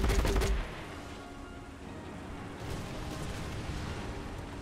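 A tank cannon fires in War Thunder with a sharp, loud blast at the start, then rumbles and fades into a low, steady battlefield drone.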